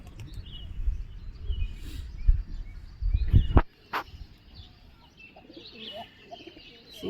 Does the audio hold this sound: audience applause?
no